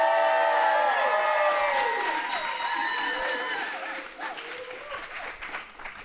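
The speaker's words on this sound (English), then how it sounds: "Crazy applause is very sexy." A theater audience at a live event applauds loudly, then the clapping thins and fades over several seconds while voices start to come through.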